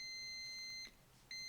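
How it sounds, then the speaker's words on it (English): A multimeter in continuity mode gives a steady, faint electronic beep that cuts out briefly and resumes while its probes touch a faulty USB-C dock circuit board. "whenever you touch the probes of your multimeter, it does that beep"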